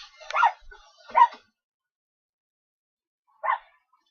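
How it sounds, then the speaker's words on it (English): Dogs give a few short, distant-sounding barks and yips indoors, two quick ones close together, then a single bark after a pause of silence. "Sorry, you hear my dogs barking."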